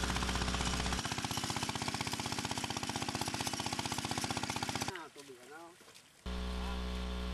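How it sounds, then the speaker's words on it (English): A hand tractor works a rice field in the Philippines, its engine chugging in a fast, even rhythm before dropping away for a moment and then returning at a steady drone, with a voice speaking over it. "After plowing, the field will be prepared with a hand tractor."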